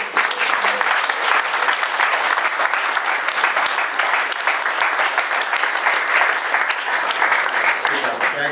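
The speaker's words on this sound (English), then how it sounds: "give her a standing ovation with a clap" An audience at a year-end party in Cameroon gives a standing ovation, with dense, continuous clapping that stays loud and steady throughout.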